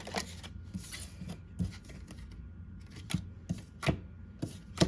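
Quiet riffling and snapping of cards being shuffled, in several short bursts with brief pauses between, close by.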